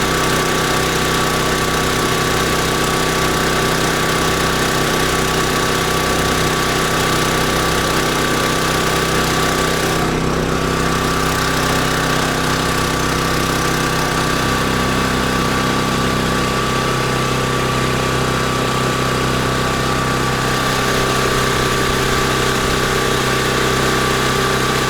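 An engine idles steadily with an exhaust tube fitted, a constant close mechanical drone with a faint hum and slight shifts in tone partway through, and no talking.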